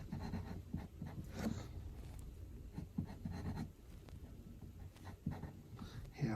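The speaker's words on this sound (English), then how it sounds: "So we're going to draw a circle for her hand." A pencil drawing a circle on paper during a kids' art lesson, soft close scratching strokes in short bursts, faint and dry with no talk over it.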